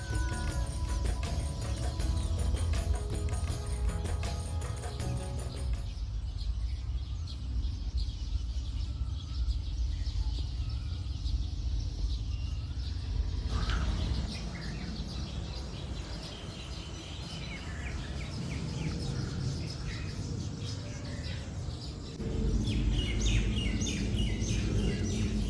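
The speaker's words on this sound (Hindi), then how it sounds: "अब इस वीडियो में आगे आप पक्षियों की आवाज़ सुनिए" Birds sing and chirp continuously in a large cow shelter garden, with many overlapping calls near and far and a constant ambient bed, with no voices.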